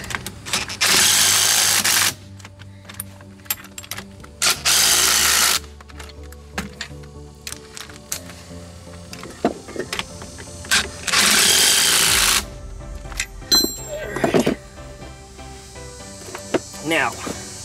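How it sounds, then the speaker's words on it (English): Short bursts of a power tool whirring as lug nuts are run onto the rear wheel of a VW Super Beetle during a rear disc brake install, three main bursts with clicks and clatter between. "We'll run our lug nuts in."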